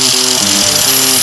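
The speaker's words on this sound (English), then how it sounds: "now I got to grind the ends of these shiny so I can weld on them" Angle grinder working the ends of shiny metal flail parts, a loud, dense, continuous grinding whine with a shifting pitch, close up and without talk.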